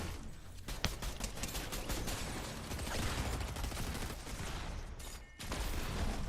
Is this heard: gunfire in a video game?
yes